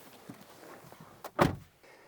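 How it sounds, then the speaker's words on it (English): A Toyota bZ4X door opens with a pull on its handle: a soft click, then a firmer thunk of the latch releasing, heard close in a quiet setting. "You just pull on them and the door opens."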